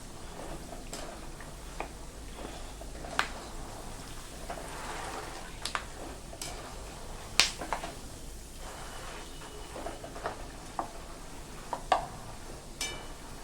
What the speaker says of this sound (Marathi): हे दाणे असे छान मधून मधून हलवत राहायचे आणि छान मस्तपैकी लालसर रंगावरती तळून घेऊ आपण